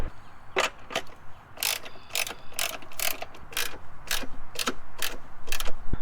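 Ratchet tightening 13mm nuts on the front strut tower bolts of a Subaru Impreza while installing a strut tower brace bar; about a dozen quick, close clicking bursts in an uneven rhythm, with no talk.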